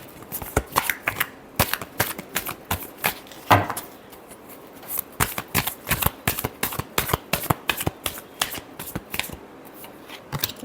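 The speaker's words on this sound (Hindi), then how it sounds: "Last shuffle." Tarot cards are riffled and shuffled in a rapid series of crisp snaps and flutters, close and fairly quiet, with a brief pause partway through before the shuffling resumes.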